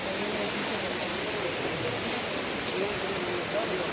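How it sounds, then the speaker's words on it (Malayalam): Waterfall roaring as a steady, broad wash of rushing water, moderately loud and continuous, with faint voices underneath. "നല്ല മനോഹരമായ വെള്ളച്ചാട്ടം."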